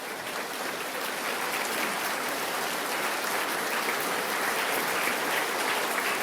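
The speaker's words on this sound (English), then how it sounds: "Please stand so we can give you some applause as well." Sustained audience applause fills a state of the state address hall, dense and steady at even volume throughout with no talk over it.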